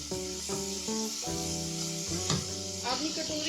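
Cumin seeds and ginger garlic paste sizzling in oil in a kadai: a bright, steady hiss running under loud melodic music throughout the short stretch.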